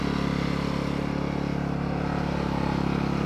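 AIVOLT AGen1600c generator engine warming up at full idle with the idle control off, a loud, steady close-up drone holding constant throughout.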